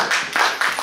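Audience at a religious discourse at Punyark Surya Mandir breaking into a short burst of scattered hand clapping, close and fairly loud.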